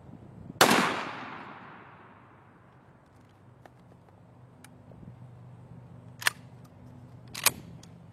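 A single loud, close shotgun blast fired with Longbeard XR number 6 shells through a Carlson's Longbeard choke, its boom decaying over about a second, followed by faint clicks and a couple of sharp knocks later on.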